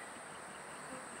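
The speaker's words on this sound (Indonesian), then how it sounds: "Sudah ada tawon, berarti ini sudah lama." Wild bees or wasps colonising a nest box trap, giving a steady, continuous insect drone with no clear breaks, faint and somewhat distant, with no voices.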